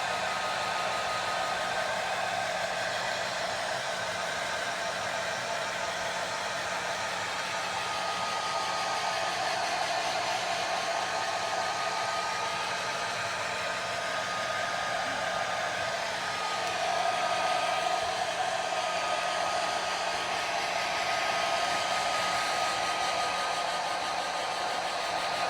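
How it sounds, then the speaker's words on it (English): A hair dryer blows steadily and loudly for the whole stretch, drying excess paint off an old steering wheel being restored, an unbroken rushing hiss with no talk. "so we just need to dry that excess paint off there."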